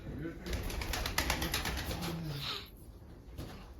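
Arab breed pigeons cooing at a loft, low soft throaty coos underneath someone talking, close and steady.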